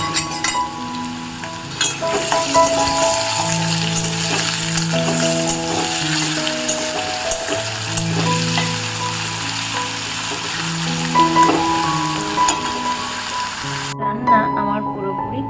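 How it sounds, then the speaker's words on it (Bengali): Potatoes frying in hot oil in a kadai, a loud continuous close sizzle with occasional stirring clinks, cutting off abruptly near the end. "এখানে কড়াইও বসিয়ে দিয়েছি, তেলটা গরম হয়ে গিয়েছে, আলুটা ছেড়ে দেবো"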